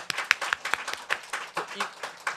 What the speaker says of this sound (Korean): 나오실 때 큰 박수로 환영해 주셨으면 좋겠습니다.